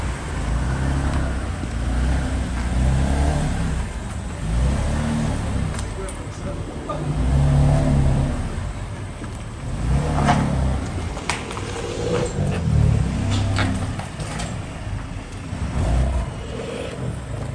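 A BMW M3/M4 with a front-mounted VRSF intake is revved repeatedly to spool its turbos, the engine swelling and falling in several loud surges over a continuous idle rumble.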